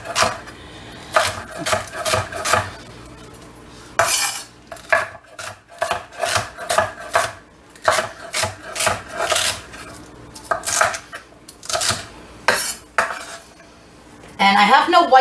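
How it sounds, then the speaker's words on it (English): Quick bursts of knife strokes on a cutting board, uneven in rhythm with short pauses, close and fairly loud, with no one speaking. "So you want to make sure you have good knives and that you are chopping with a sharp knife."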